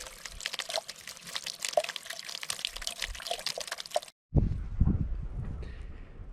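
Fresh rainwater trickling and dripping from runoff after overnight rain, heard outdoors on a spring moose shed hunt as a faint, busy patter of drips that cuts off briefly and resumes with louder, closer splashes.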